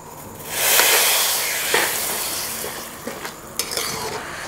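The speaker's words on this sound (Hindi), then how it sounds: "अब हम इसमें डालेंगे सेवई।" Vermicelli (sewai) goes into a sugar syrup with fried dry fruits and cardamom powder to make kimami sewai. A hissing sizzle swells up, then a spoon stirs and scrapes in the pan, with a few light clinks.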